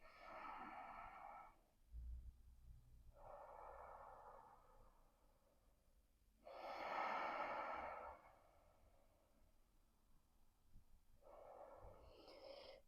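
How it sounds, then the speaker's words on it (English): Slow deep breaths in and out through the nose during a chair yoga session, several long airy inhales and exhales spaced a few seconds apart, close and quiet with no talking. "Beginning your deep breathing in and out through the nose"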